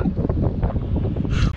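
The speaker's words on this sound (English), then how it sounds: "man, it is windy out here" Strong outdoor wind buffets a microphone near a bridge in San Francisco during a triathlon run, a loud continuous rushing roar that fills the whole short stretch without speech.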